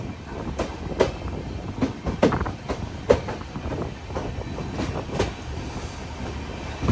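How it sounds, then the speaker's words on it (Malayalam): Express train pulling into platform 3 at Mangaluru Junction, its wheels beating out a regular clickety-clack over rail joints with a steady rumble underneath, fairly close and without talk. "ട്രെയിൻ ഇതാ മംഗളൂരു ജംഗ്ഷൻ റെയിൽവേ സ്റ്റേഷനിലേക്ക് എത്തിക്കൊണ്ടിരിക്കുകയാണ്"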